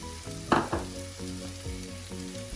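Cumin powder and red chili powder fry in a pan, a soft close sizzle with a couple of sharper crackles early on over a low background hum.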